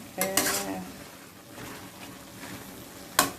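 Thai basil chicken being stir-fried in a pan with eggplant: metal spatula scrapes and clatters against the pan in a quick burst, a low sizzle underneath, then another sharp scrape near the end.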